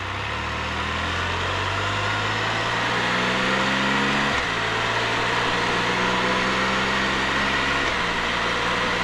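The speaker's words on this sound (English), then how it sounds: "I really like this 3-cylinder 1330 engine. It's very smooth." A Can-Am F3 Spyder three-wheeler's 1330 three-cylinder engine idles smoothly and steadily, a close, continuous low hum with a brief dip partway through.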